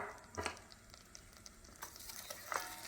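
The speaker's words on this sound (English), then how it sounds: "Let everything saute and melt down." Onion and minced garlic sauté in a pan for a corned beef dinner, giving a quiet, steady sizzle with a few soft stirring scrapes and clinks close by.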